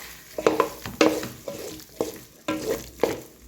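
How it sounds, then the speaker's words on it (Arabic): A spoon stirs canned tomato in a pot for Tlemcen-style harira. Rhythmic, close scraping strokes come about every half second over a light frying sizzle. "حطيت مغرف طماطم مصبره، نحركهم مع بعضهم بالشكل هذا."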